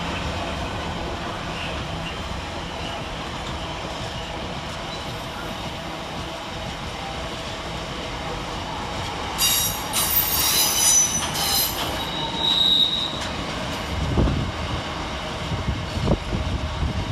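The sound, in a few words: West Midlands Railway train 172211 arriving at Nuneaton station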